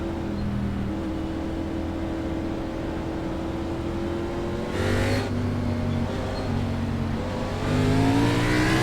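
Race car engines roar together at the green-flag start of a racing video game, a steady loud drone with rising revs and a surge of acceleration near the end.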